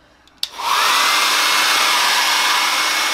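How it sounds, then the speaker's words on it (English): A hair dryer, used to heat parts during a 2017 Kawasaki Z125 Pro headlight and blinker install, clicks on and blows a steady, loud whir of rushing air that holds constant to the end, with no voices. "Just grab your hairdryer."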